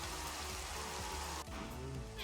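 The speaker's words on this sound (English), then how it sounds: "It's still raining, but I've turned the sound down" Rain falls in Minecraft with the game volume turned down. It is a faint, even hiss of rainfall throughout, with no voices.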